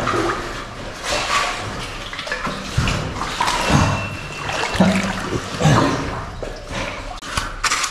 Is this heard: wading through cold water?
yes